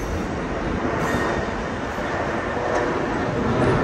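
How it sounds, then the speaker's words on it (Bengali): A train passing near Canary Wharf in London, a loud continuous rumble and roar of wheels on rails, close and steady throughout without speech. "ট্রেন যাচ্ছে"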